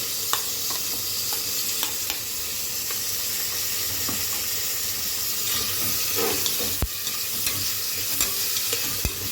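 Sliced fresh tomatoes go into a hot pan of chicken biryani in a pressure cooker, giving a steady close sizzle and frying hiss with a few soft stirring knocks throughout.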